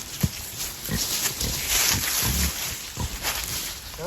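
Pigs being herded outdoors toward a turnip patch grunt and snort nearby in a series of short, irregular low grunts over a breezy, noisy background.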